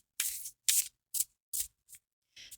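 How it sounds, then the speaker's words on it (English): An oracle card deck is cut shuffled by hand, producing six crisp papery bursts of sliding cards in an uneven rhythm, close and fairly loud, separated by brief silences. "they cut shuffle just fine as well"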